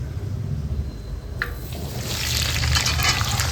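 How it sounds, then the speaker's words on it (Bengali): Cut potatoes for a chicken and prawn biryani are dropped into hot oil already used for frying onions, and a bubbling sizzle rises partway through and grows louder and steadier, close by with no talk. "এই বেরেস্তা ভাজার তেলেই আমি আলু কেটে রেখেছি আলুগুলোকে ভেজে নেব"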